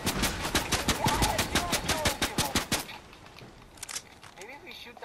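Rapid automatic gunfire in the Fortnite video game rattles in a dense burst for about three seconds, then gives way to quieter game sounds with a few faint shots and talk underneath.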